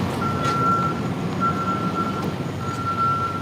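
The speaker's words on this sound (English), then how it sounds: "He's watching the slaughter truck drive out." A slaughter truck backs up with its reversing alarm beeping three times at a steady interval over a continuous diesel engine rumble.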